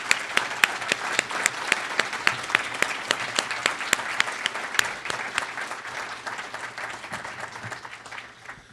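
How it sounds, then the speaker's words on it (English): Conference audience applauding a whistleblower panel, with close, sharp individual claps standing out rhythmically above a steady bed of crowd clapping that continues evenly throughout. "So I'm going to give them a round of applause."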